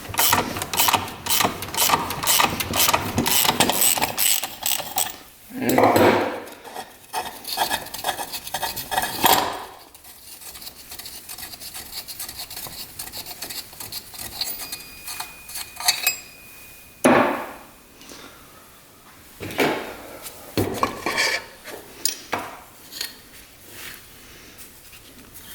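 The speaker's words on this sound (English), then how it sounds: "crank bearing is toast. Listen to that, jeez." Dirt bike that last ran twelve years ago, engine turning over with a worn-out crank bearing, giving a steady rapid mechanical clatter and knocking with a few louder surges and brief pauses.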